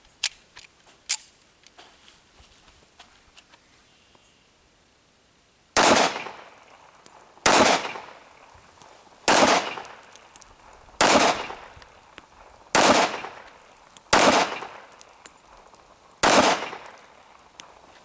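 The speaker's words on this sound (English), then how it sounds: "We'll shoot one more mag on that second target down on the bottom" A Springfield Armory 1911-A1 .45 ACP pistol fires seven sharp, loud shots, evenly spaced about two seconds apart, outdoors at a target range; each crack rings briefly, after a few fainter distant pops.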